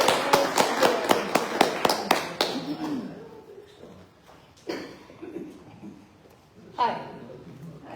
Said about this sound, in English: So let's give her a big hand of applause.